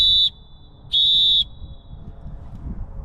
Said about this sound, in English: the halftime whistle tone could be the same as the full-time whistle tone